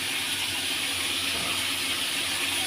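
Pointed gourd (potol) with a bay leaf frying in hot oil, a dense steady hiss of sizzling close by with no talking.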